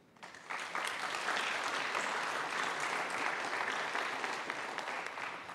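Sustained audience applause for conference sponsors at a Kubernetes community event, a broad steady wash of many hands clapping that swells in after a quiet start and holds loud and even throughout.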